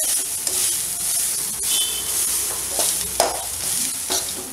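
Grated coconut being stirred into vallarai keerai poriyal frying in a pan, with a continuous close sizzle and the steady scrape of a spatula turning the greens, a few sharper clinks along the way.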